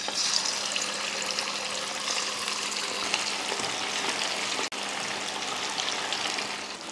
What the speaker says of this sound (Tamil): எண்ணெய் நல்லா காஞ்சதுமே சில்லி போட்டுக்கலாம்.